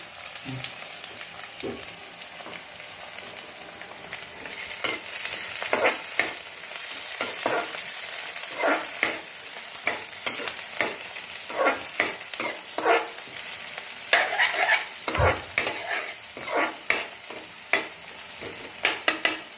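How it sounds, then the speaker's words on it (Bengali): Onions frying in a pan, a continuous sizzle broken by frequent sharp scrapes and stirs that grow busier and louder toward the end. "পেঁয়াজগুলো একটু ব্রাউন হোক"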